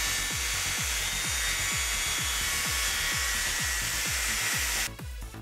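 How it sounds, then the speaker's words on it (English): Angle grinder fitted with a very thin metal cutting disc slicing through steel for a full tang knife blade, a loud continuous high whine with regular rhythmic pulses, close up, cutting off abruptly near the end. "I'm going to be using a very thin metal cutting disc to cut it out"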